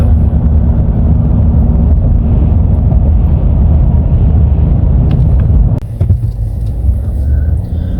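Car driving through the town of Beaver on the Beaver Peninsula in Canada: a loud, steady low road and engine rumble from inside the vehicle, briefly interrupted by a thump and rattle near the end.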